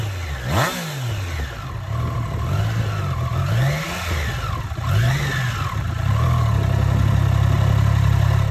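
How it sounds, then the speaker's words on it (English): A Triumph Trident 660 three-cylinder motorcycle engine revs repeatedly, rising and falling in several smooth swells before holding at a high, steady pitch, loud and close with no talking. "gets the same inimitable whoosh characteristic of the company's three-cylinder engine"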